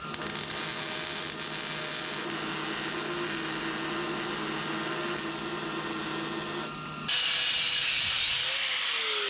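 A power tool grinds and cuts steadily through a frame rail on a 1967 Toyota Stout truck, a loud continuous whine that stops briefly and then resumes brighter and harsher; no voices.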